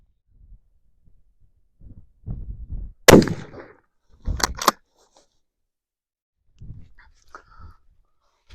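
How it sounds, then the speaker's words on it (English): A suppressed Ruger Ranch rifle fires 150 grain Sabre black tip rounds at a 35-yard outdoor range, giving a few sharp, muffled reports separated by quiet gaps, with some low rustling between them. "just finished up putting 5 rounds of the 150 grain Sabre black tip on target at 35 yards."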